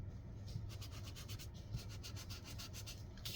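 A small sponge lightly loaded with ink rubs back and forth over crumpled, wrinkled paper, giving a soft, close scratchy swishing with a steady repeated stroke rhythm, faint and alone.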